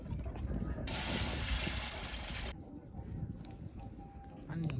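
Water poured into a large pot of Hyderabadi chicken dum biryani being cooked outdoors, a loud rushing gush lasting about a second and a half that then drops back to a murmur of background noise.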